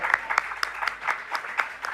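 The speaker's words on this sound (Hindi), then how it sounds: "सलीम भाई आपके लिए जोरदार तालियां." Applause greets Salim Rahmani as he comes to the stage at an app launch event in Nagpur: a modest crowd's clapping with distinct, fairly regular individual claps standing out, moderately loud and without speech.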